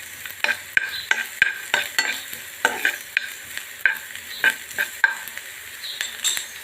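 Green chillies and a piece of ginger fry in a pan with a steady sizzle, broken by repeated scraping stirs of a spoon at an uneven rhythm, close and fairly loud with no talking.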